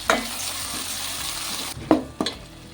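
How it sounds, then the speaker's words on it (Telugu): Chopped tomato frying with ginger garlic paste in a pan for a palak curry, a steady soft sizzle broken by a few sharp scrapes of a spoon stirring, close by with no talking. "టమాటా కూడా ఫ్రై అయిపోయింది"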